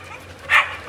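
Small trained dog giving a single short yip, fairly near, over a low steady background hum.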